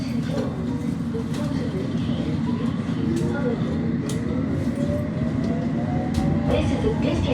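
A London Underground 1938 stock train on the District line rumbles along continuously, a steady loud low roar with rail noise and rising whine, close and unbroken, with faint voices.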